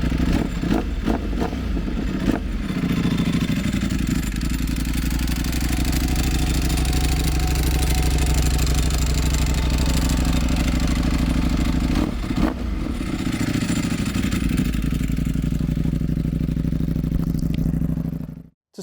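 A Ducati Panigale V4 R superbike's 235 horsepower engine is held at a loud, sustained high-rev roar for many seconds, with deep throbbing drive and slight rises and dips before cutting off at the end.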